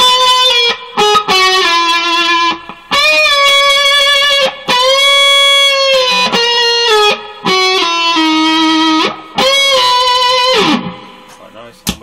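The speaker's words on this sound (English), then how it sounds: "here's the distortion." A 1966 Vox Buckingham guitar amplifier with its distortion effect switched on plays a sequence of loud sustained, harmonically rich guitar notes and chords separated by brief gaps, ending in a downward bend.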